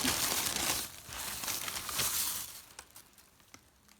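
A large plastic bag holding meat (veal, shanks and wings) crinkles and rustles loudly up close for a few seconds, then settles into softer, sparse rustles.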